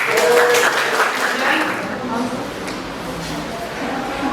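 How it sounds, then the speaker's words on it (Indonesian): Classroom applause for a student after a presentation, brief scattered clapping that fades within a couple of seconds, with talking heard over it and continuing afterward. "Beri tepuk tangan kepada Irfan."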